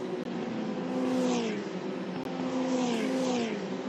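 Formula Regional race cars howl through a chicane at a UAE circuit, high-revving engines rising and falling as two cars pass close together, loud and continuous with a brief downshift in the middle.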